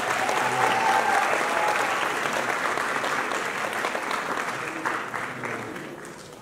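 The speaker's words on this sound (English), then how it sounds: "a big round of applause for them," An audience at a dental college event applauds the graduating batch of 2023, a full, steady roar of many hands clapping that slowly fades toward the end, with faint voices mixed in.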